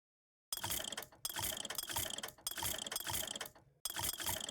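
An ammo vending machine in Bioshock Infinite dispensing, with loud repeated mechanical ratcheting and clicking bursts separated by brief gaps, close and alone.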